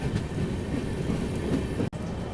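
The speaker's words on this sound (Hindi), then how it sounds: "बारिश जो है अभी तक थमी नहीं है" Steady broadband wash of rain mixed with rumbling train movement on a rail journey near the Kaljani River before New Alipurduar, loud and continuous, with a brief dropout near the end.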